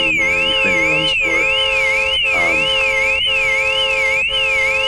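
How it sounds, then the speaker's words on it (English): A loud electronic car alarm in the Car Dealer Simulator video game, wailing with a steady rising and falling siren sweep and repeating tones that run continuously and dominate throughout. "then the car alarm goes off, which is also loud and annoying"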